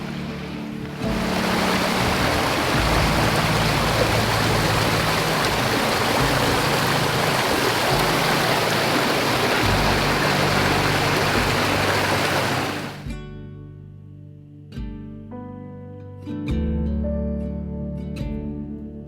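Waterfalls among rocks in the Brecon Beacons give a loud, steady broadband rush that stops abruptly around two-thirds through, leaving faint quieter sounds.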